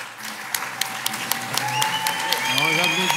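Scattered hand claps from an audience at a talk on protecting farmland, building into steady applause while a voice speaks over it.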